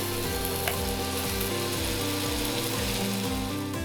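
Eggs are added to a pan and fry with a continuous loud sizzle at medium to high heat for a cheese-topped Japanese hamburg steak. A rhythmic low stirring or scraping repeats beneath the hiss, with no voices.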